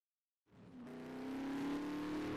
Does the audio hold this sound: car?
yes